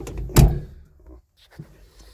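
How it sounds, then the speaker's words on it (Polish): A solid thunk as an excavator cab door shuts, followed by a quieter second knock a moment later. "Zamykamy sobie drzwi."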